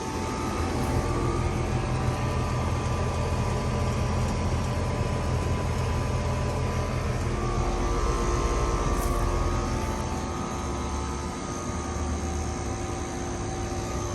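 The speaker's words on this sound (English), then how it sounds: "That is an LG scroll compressor," An outdoor heat pump unit with an LG scroll compressor running, giving a loud, steady mechanical hum and whooshing fan roar that holds constant throughout with no speech.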